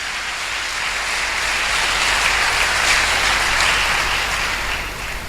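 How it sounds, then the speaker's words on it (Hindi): Church congregation giving loud, sustained applause during a sermon, a broad steady wash of many hands clapping with no speech on top. "जोरदार तालियां"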